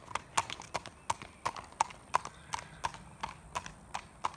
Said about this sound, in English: She's a spotted saddle horse.